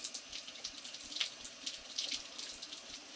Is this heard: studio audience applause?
no